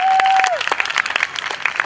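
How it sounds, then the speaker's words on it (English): An audience claps in response at a live event featuring stock .45 caliber single action army revolvers, dense applause that starts loud then thins into scattered, uneven claps as it fades. "You can clap if you'd like."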